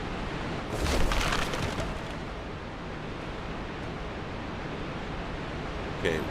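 Steady broadband rush of a waterfall in the video game Dark Souls, a constant roaring wash that fills the whole clip with a brief swell near the start.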